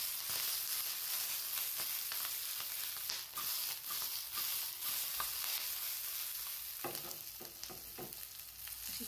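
Two garlic cloves and a roasted green chili sizzle in a little oil for chili thecha, giving a soft close crackling hiss with occasional stirring scrapes throughout, no voices.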